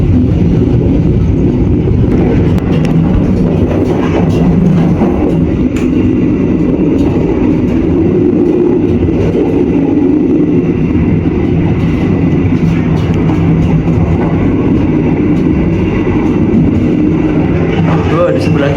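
Riding aboard the Sawunggalih Utama passenger train as it runs straight through Bumiayu station without stopping: a loud, constant low rumble and rattle of wheels on rail, with a person talking over it throughout.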